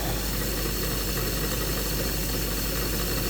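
A small Craftsman lathe bores the neck of a Winchester rifle case under manual feed, giving a steady, even mechanical whir and hum that runs unbroken at moderate level, with no talking.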